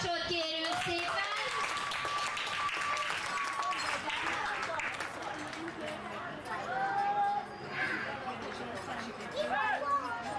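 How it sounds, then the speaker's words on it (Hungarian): Crowd applause at an international log-pulling contest, clapping mixed with loud chatter and babble from spectators, while an announcer's voice carries over the noise throughout. "Nagy tapsot kérünk szépen!"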